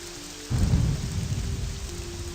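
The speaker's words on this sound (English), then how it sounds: "The rain is slowing down a bit" Rain and a thunderstorm in The Elder Scrolls video game, steady rainfall hiss with a deep rumble of thunder rolling in after a moment and lingering beneath the downpour.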